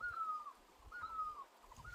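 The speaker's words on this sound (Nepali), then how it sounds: "यो चराको आवाज।" A bird calls in a village, giving two short, clear whistled phrases a moment apart, faint and somewhat distant over quiet background rustle.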